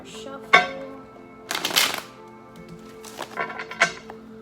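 Tarot cards are shuffled in several quick, crisp bursts with pauses between them, close up and fairly loud.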